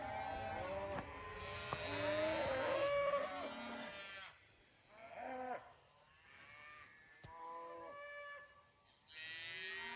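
Cattle low repeatedly as they are moved along a steep hillside lane with a calf separated from the herd, several drawn-out moos coming one after another at moderate distance with pauses between them.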